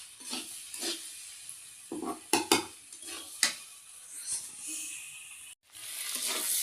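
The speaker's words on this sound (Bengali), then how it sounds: "এই যে কপিটা কিন্তু আস্তে আস্তে ভাজি করতে হয়" Cauliflower or cabbage stir-fried in a pan, with repeated scraping strokes of a spatula and clinks against the metal over a steady sizzle, close and fairly loud, with a brief dropout near the end.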